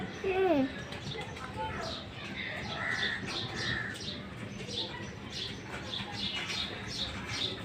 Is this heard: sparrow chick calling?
yes